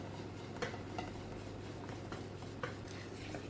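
Carrot cake batter being mixed by hand in a bowl, with soft, quiet scraping strokes and a few light taps over a steady low hum, no one talking.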